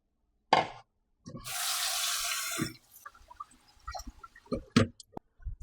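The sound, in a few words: washing jasmine rice under running water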